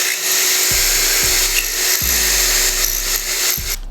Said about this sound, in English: You just gotta be careful the drill doesn't rub up against this